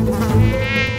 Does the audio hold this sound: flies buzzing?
yes